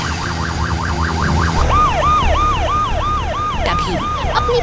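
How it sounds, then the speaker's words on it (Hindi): A red cartoon fire truck's siren wails loud and close, a rapid warbling cycle that shifts into a slower rising-and-falling yelp with a vehicle rumble underneath, no voices. "तभी अपनी पूरी रफ्तार के साथ एक लाल दमकल की गाड़ी आग की लपटों को चीरती हुई आगे बढ़ती है।"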